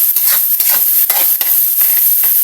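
Garlic and onion sauté in hot oil with a continuous sizzle, punctuated by about six rhythmic scraping strokes as the pan is stirred, close and loud.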